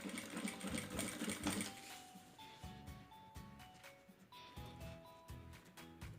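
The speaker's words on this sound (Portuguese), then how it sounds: "E vamos costurar." A sewing machine stitches a diaper bag, running in a fast, steady whirring rattle up close before slowing into shorter bursts with brief pauses between runs.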